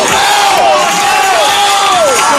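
A loud crowd at a men's final competition cheers and roars continuously, with shouts and whoops rising over a dense wall of noise.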